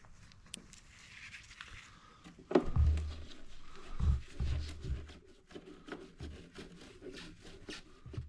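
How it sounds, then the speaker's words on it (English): Scraping and rubbing of metal battery cable ends being cleaned on a Husqvarna 24V54 lawn mower, with a few heavier knocks and rasps in bursts, close by. "Going to clean the battery cable ends up a little bit."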